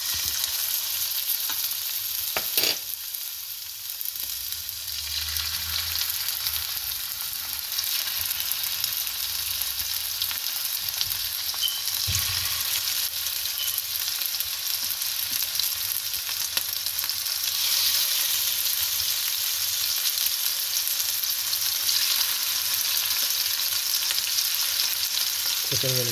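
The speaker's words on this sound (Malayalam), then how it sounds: "ചിക്കൻ എടുത്ത് അതിനകത്തേക്ക് പാനിലേക്ക് ഇടുകയാണ്." Pieces of chicken frying in oil in a pan for ginger chicken, with a steady close sizzle, a brief clatter as they are moved, and an occasional stir.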